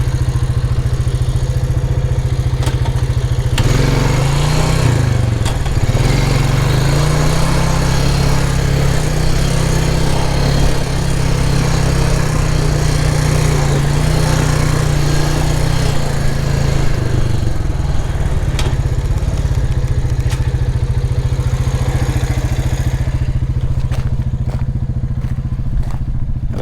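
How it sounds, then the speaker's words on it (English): A tractor engine runs nearby at a remote desert spot along the Butterfield Overland route. It gives a loud, continuous mid-pitched rumble with a deeper throbbing stretch in the middle and rattling clatter throughout, and no voices are heard. "There's the tractor."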